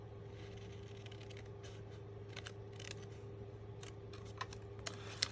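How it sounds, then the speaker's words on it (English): Scissors snip through paper cardstock while a pull-up tree thank-you card is being made. Quiet, crisp cuts and clicks come in irregular bursts over a steady low hum, with a few sharper snips toward the end and no talking. "We're going to go ahead and bring our scissors from the top"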